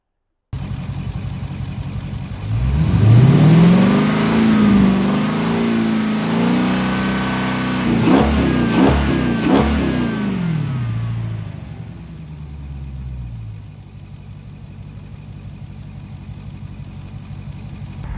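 A Dodge Scat Pack's 6.4L HEMI V8, fresh from a spark plug and ignition coil swap, cranks and fires, then revs in several rising and falling sweeps before dropping to a steady idle, loud and close with no talking.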